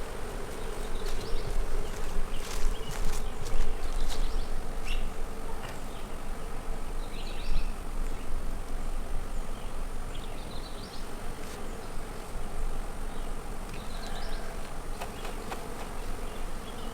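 Irritated honeybees swarm around an open hive in a dense, continuous buzz, loud and close, with individual bees darting past the ear over the steady drone.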